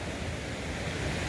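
A river rushes at White Water Village in Meghalaya, giving a dense, continuous low roar of flowing water mixed with wind buffeting for just over a second.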